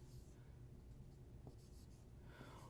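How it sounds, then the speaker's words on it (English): Pen or marker scratching quietly as a number is written by hand, a few short faint strokes over a low background hum. "I'll write it out to the side so you can see both."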